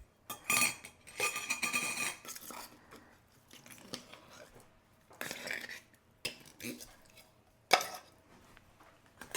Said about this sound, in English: I'm going to just take a fork and start crushing it around, kind of mixing everything up